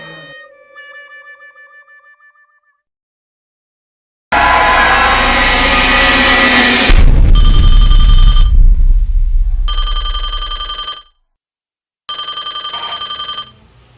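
A telephone in a Tamil horror film, Ghost Friend, gives loud electronic ringtone bursts, starting with a long continuous ring and then repeated warbling pulses broken by short gaps.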